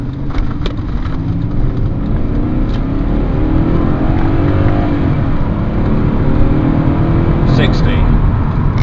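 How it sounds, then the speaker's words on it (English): A 1997 BMW E39 535i V8 revs up hard through the gears in a 0-60 run, a loud, continuous accelerating roar close by with brief shifts in pitch. "So I'll do an 0 to 60 test now."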